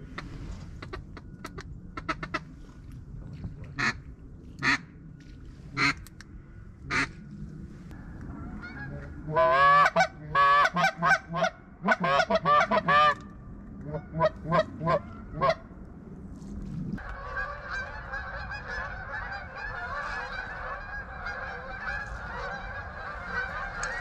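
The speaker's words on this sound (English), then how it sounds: "That's a lot of geese." A flock of geese honking in a flooded swamp, scattered calls at first, then a loud burst of overlapping honks as many take off, followed by steady distant honking over background noise.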